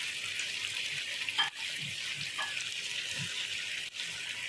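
Yogurt is added to liver (kaleji) masala frying in a pan and stirred in, giving a soft steady sizzle with scraping and stirring sounds, a few spoon knocks and a brief wet plop.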